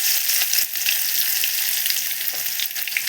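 Chopped garlic frying in oil with cumin seeds, dried chilli and bay leaf, a dense, continuous close-up sizzle with faint stirring.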